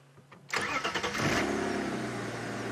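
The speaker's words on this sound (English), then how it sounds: "we're just going to switch on. And let the engine run a little bit." Safari vehicle engine in the Sabi Sand bush at sunset cranks briefly and catches, then settles into a steady, close idle that runs on alone without talk.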